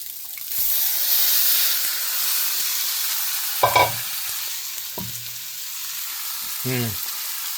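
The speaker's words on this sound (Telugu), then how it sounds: "ఇంకా ఫ్రై కదా, తిప్పుకుంటూ ఉండాలి అప్పుడప్పుడు" Chicken fries in a pan at medium heat with a soft, steady sizzle, broken now and then by short scraping knocks as the pieces are stirred and turned.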